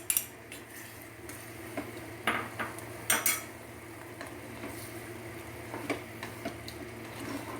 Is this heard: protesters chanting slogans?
no